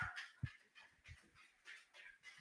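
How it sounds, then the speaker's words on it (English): A small dog at home barks and grumbles in short bursts, fairly close but quiet, with a few scattered yips and whines across the moment. "Stop barking."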